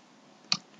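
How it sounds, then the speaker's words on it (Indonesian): A single short keypress click on a computer keyboard while pressing Ctrl P to print in Excel, crisp and close, standing alone against a quiet room. "teman-teman bisa tekan Ctrl P di keyboard ya"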